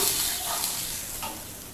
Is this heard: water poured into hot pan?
yes